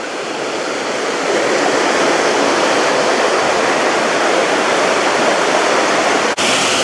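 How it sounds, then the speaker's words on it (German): A roaring small waterfall spilling from an overflow in a gorge at Hřensko in Bohemian Switzerland, Czech Republic: a loud, dense, continuous rushing of water, heard up close with no voices and one brief dip near the end. "jetzt stehe ich vor diesem tösenden Überlauf oder kleinen Wasserfall"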